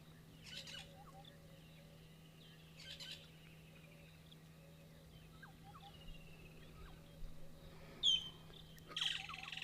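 Blacksmith lapwing calls out of doors, several short faint bursts of sharp metallic notes repeated near the start, then louder sharper calls toward the end, over a steady low hum and light background birdsong.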